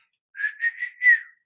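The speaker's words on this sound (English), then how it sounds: "this is whistling." A person whistles a short tune of four connected rising and falling notes, clear and close against complete silence, lasting about a second.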